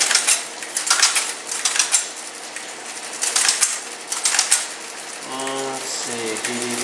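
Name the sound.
typing on a typesetting machine keyboard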